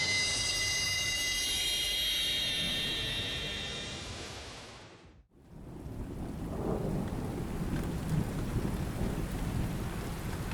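Spring rain hisses steadily and a thunderstorm rumbles, the rain fading to near silence before a low, broad roll of thunder swells back in under continuing rainfall.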